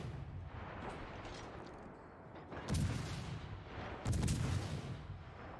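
Naval artillery fire from warships in the game World of Warships: Legends, with two heavy, booming salvos a bit over a second apart, each a deep, loud blast over a quieter rumbling sea ambience.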